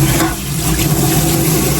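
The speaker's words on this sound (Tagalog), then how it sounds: "Binuhusan ko na ito ng mainit na tubig." Hot water pours steadily over fish in a Filipino country kitchen, a loud continuous splashing rush lasting the whole short moment with no voices.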